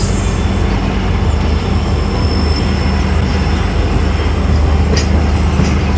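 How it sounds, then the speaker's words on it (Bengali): Garib Rath Express train hauled by a WDG4D diesel locomotive on the Northeast Frontier Railway out of Agartala, a loud continuous rumble and roar of the moving train with no pauses or talk. "সামনে যে লোকোমোটিভ রয়েছে"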